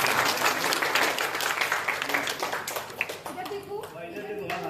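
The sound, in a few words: audience applause at painting competition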